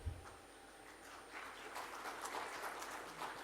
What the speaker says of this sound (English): You deserve the applause. I was going to ask you for one. Let's do it again.